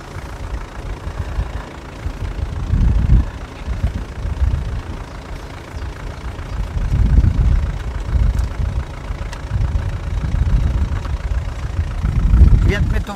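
A 4x4 vehicle's engine runs slightly accelerated with someone at the wheel, a steady low rumble that swells in a few surges, with people talking nearby over it.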